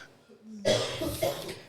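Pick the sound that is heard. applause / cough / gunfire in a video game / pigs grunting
cough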